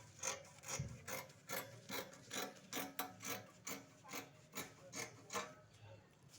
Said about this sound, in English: Cut your armhole.